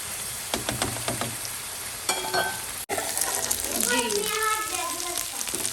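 Chicken fries in a pan, giving a steady sizzle with scraping and stirring clatter, and a voice talks over part of it.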